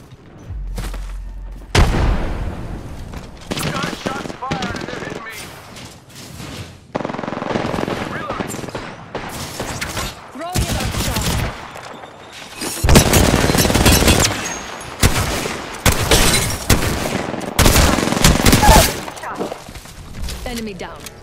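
Rapid automatic gunfire bursts and booming explosions, including a frag grenade blast, from an Apex Legends match, loud and repeated across the whole stretch with a voice speaking intermittently between shots.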